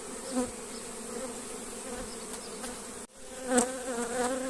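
Honeybees hum steadily around an open hive during a spring frame inspection, a close, continuous buzzing with a few louder passes as individual bees fly near.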